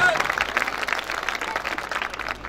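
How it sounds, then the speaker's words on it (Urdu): A mushaira crowd in Rampur claps for the assembled poets, busy broadband applause that swells at the start and carries on at moderate level beneath a voice talking over it. "اب شعراء حضرات ایک بار زوردار تالیاں بجا کے آپ لوگ بھی اجازت دے دیں"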